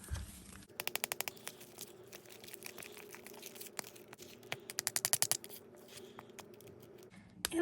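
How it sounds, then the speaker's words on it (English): Shredded toilet paper being mixed into slime, quick bursts of wet clicking and squelching stirring, close, in two flurries with quieter rustling between. "now what I'm going to do is I'm going to get mixing this in"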